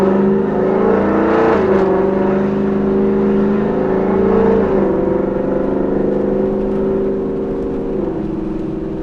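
A Ford Mustang with a loud aftermarket exhaust idles with a deep, rumbling note, rising in steady revs a few times and dropping back, close and loud throughout.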